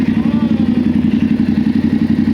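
A motorcycle engine idles close by with a steady, rapid, throbbing pulse and a mechanical clatter, loud and continuous throughout.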